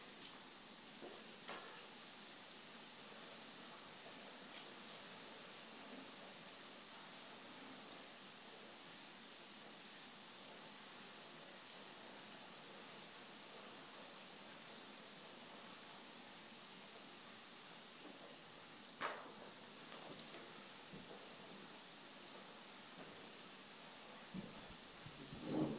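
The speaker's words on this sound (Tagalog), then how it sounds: "Umuulan po, umuulan." Steady rain falls in foggy mountains, a soft even hiss throughout with a few faint louder drops or knocks near the end.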